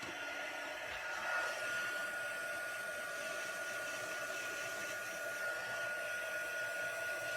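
Heat embossing tool blowing hot air over a card base, a steady, quiet fan-like whir that holds unbroken throughout with no talking.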